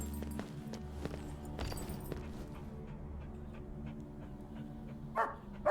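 A dog in the video game The Inquisitor makes soft barks and whimpers over a steady ambient game background with footstep-like thuds, fairly quiet throughout.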